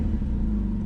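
A Porsche Cayman 987 engine turns over sluggishly on starting, a steady low mechanical rumble close by with no voices.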